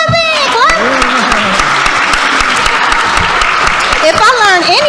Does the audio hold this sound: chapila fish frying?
no